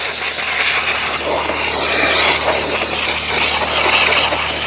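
A steam cleaner hisses loudly and steadily while deep cleaning a car interior, a broad continuous rushing spray close up with no pauses or talk.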